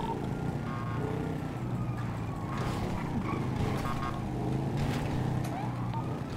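Steady vehicle engine drone and road noise of traffic in a role-play police game, a continuous low hum with cars passing at moderate distance and faint voices in the background.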